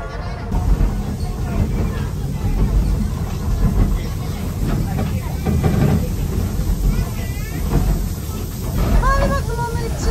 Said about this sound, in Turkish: o kadar eski bir tren ki buharlı bir tren